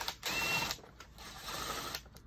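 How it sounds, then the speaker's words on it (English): Screws driven into a plastic lawnmower fuel tank give faint, close mechanical whirring and ratcheting in two short bursts with a brief pause between, quiet and without speech. "It's screwing into plastic."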